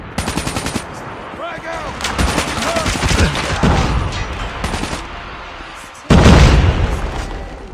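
A frag grenade exploding during gunfire in a team-based video game: rapid bursts of shots at the start, then loud booming, with a sudden heavy blast near the end.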